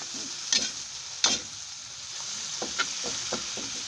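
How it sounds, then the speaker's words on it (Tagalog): Food stirred in a pan over a smoky wood fire, with a steady soft sizzle and a few sharp scraping strokes of the spoon against the pan, no talking. "So, i-mix ulit natin sa pamamagitan ng paghalo."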